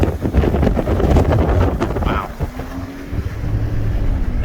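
Strong wind buffets the microphone outdoors beside a wet, burnt field and slough, producing continuous loud low rumbling gusts, with a brief exclamation from a voice.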